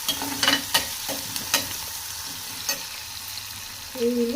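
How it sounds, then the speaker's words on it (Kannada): Onions frying in a pan with soft sizzle and several sharp scrapes of a stirring spoon against the metal, plus a brief tonal clink near the end, close and without talk. "ಈರುಳ್ಳಿ ಹಾಕ್ತಾಯಿದ್ದೀನಿ ಈರುಳ್ಳಿ ಫ್ರೈ ಆದಮೇಲೆ"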